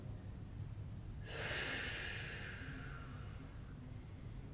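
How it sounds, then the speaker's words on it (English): A single deep breath in during a yoga flow, drawn close to the mic as a soft airy rush that rises quickly, holds, and fades over a few seconds against a faint background hum. "Take a deep breath in."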